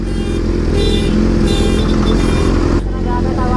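A superbike engine rumbling loudly and close, a dense steady roar that barely lets up.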